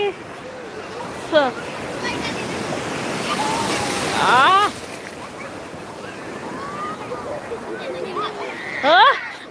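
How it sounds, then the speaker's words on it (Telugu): Big sea waves roll and surge beside the seaside Murudeshwar temple, a steady broad wash of surf with gusty wind noise, while people talk over it throughout. "పెద్ద పెద్ద అలలు గుడి శివుడు శివుడి పక్కనే ఇంత పెద్ద సముద్రం"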